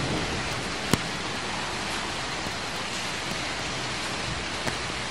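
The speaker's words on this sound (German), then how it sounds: "Die ersten Regentropfen kommen runter." Rain coming down at an outdoor bushcraft camp as the sky clouds over, a steady broadband hiss with a couple of sharp single drop ticks, close and fairly quiet, no voices.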